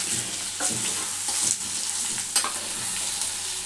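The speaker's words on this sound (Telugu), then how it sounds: "ఈ ఉల్లిగడ్డ ఉన్ను ఈ బెండకాయ కొంచెం మంచిగా ఫ్రై కావాలి" Okra and onion frying in oil make a close, continuous sizzle, with a few soft stirring scrapes and clicks breaking through the steady crackle.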